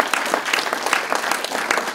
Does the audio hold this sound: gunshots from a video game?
no